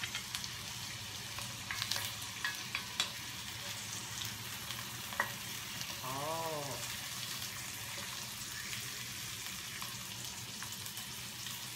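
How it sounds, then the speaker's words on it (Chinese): Chicken pieces pan-fry skin-side down to render their fat, producing a quiet, continuous sizzle with scattered pops and a brief tonal squeak midway, with no one talking. "我们刚刚煎鸡肉啊，不是要把它完全煮到熟，只是呢要让它的鸡皮啊多余的油脂释出而已哦"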